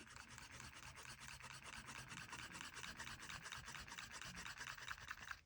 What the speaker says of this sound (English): I'm going to take my eraser.